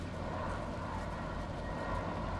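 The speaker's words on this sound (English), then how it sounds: "Plane going overhead once again." A propeller airplane passes overhead in Farming Simulator 19, giving a steady, low droning engine rumble that stays even and moderately distant for the whole short stretch, with no speech.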